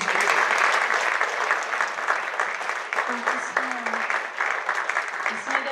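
Sustained audience applause at a French school sports trophy ceremony as student athletes come up on stage, dense steady clapping filling the hall throughout with a few faint voices mixed in.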